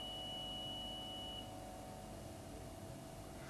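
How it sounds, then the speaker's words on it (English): Alarm beep from an ultrasonic flaw detector's range gate, a thin steady electronic tone that sounds for about a second and a half and then fades out, heard faintly beneath a constant broadband hiss. "you can hear there's an alarm signal goes"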